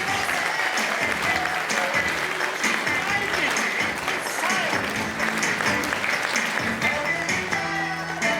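A gala audience applauds as Dr. Mark Frohlich is welcomed to the stage, steady loud clapping from a large crowd with a few cheers, sustained throughout.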